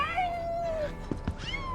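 Fluffy the cat in Final Fantasy VII Rebirth, in the Nibel area, gives a drawn-out meow, then softer mewing cries near the end, all up close over a quiet game backdrop.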